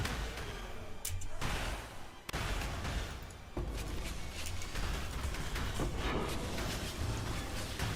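Dense, continuous barrage of video game explosions from a Carcass Jack build, loud blasts overlapping in rapid succession with a few brief gaps.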